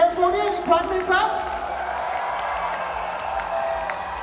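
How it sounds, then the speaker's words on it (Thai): A crowd at a BNK48 idol group appearance at Iconsiam applauds and cheers in a steady, dense wash, while a voice over a PA carries through the opening second or so. "ขอเสียงปรบมือกับน้องๆทุกๆคน BNK48 อีกครั้งหนึ่งครับ"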